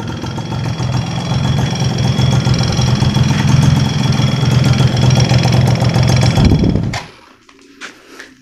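A 1995 Yamaha F1Z R two-stroke motorcycle engine idles close by with a steady rapid ticking from the valve tappets, then cuts off abruptly, leaving a few faint clicks.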